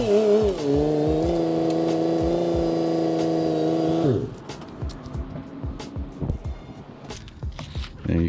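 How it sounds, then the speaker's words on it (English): Lexus IS300 with staggered drift-stance wheels idling loudly and steadily, then the engine note drops as it shifts and creeps out of a driveway, followed by quieter rolling and mechanical clunks. "let me pull the car out"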